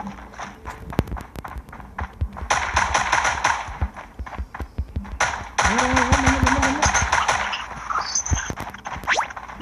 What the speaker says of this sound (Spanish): Voy a sacar la escopeta táctica.